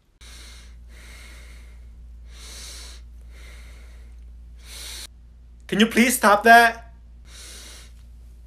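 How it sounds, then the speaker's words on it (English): A person in a classroom breathes heavily through the nose, giving about eight loud, rhythmic snorting breaths. A voice speaks briefly partway through. "Stop what? The whole breathing thing."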